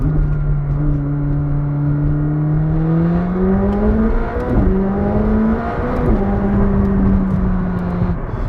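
A McLaren 765LT pulling hard through the gears, its engine note rising in long sweeps broken by several quick upshifts, loud and continuous from inside the cabin, with no talk over it.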